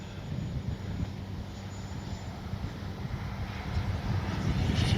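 A Freewing Zeus 90mm 6S electric ducted-fan RC jet in flight, a steady low rumbling drone that builds slightly louder toward the end, heard outdoors with no talk.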